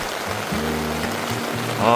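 Heavy rain pouring onto a camping tent during a downpour warning, a dense steady hiss of drops close by, with a low hum running underneath.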